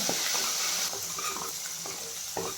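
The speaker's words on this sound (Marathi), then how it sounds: "आलं लसूण, कोथिंबीर आणि हिरवी मिरची छान फ्राय करून घ्यायचे" Ginger-garlic paste, coriander and green chilli fry in hot oil for an eggplant curry, with a constant close sizzle and a few light clinks of stirring, and no one speaking.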